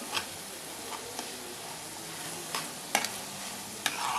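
Seasoned minced beef samosa filling with salt and stock cube stirred in a pan, a soft steady background hiss broken by several brief scraping clicks of the spoon, close and fairly quiet.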